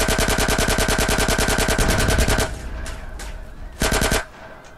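Rapid machine-gun fire while shooting enemies in GTA San Andreas, a loud continuous stream of shots lasting a couple of seconds, then a short second burst after a pause.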